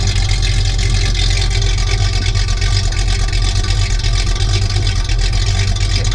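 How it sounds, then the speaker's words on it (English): A 1973 Plymouth Roadrunner with a 318 V8 idles steadily with a throaty, low rumble, loud and close, with no voices. "it's got that nice throaty sound to it. It sounds like a really mean race engine, but it's just a 318."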